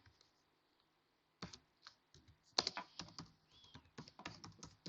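Keys being typed on a computer keyboard while entering text into a PowerPoint slide, a brief tap first, then a steady run of close, quiet clicks and keystrokes with no talking.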